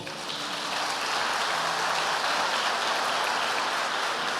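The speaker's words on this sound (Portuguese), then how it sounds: "Você pode dar um aplauso ao Senhor?" Congregation in a church service claps in a dense, sustained wash of applause that swells and holds steady, fairly loud and without speech.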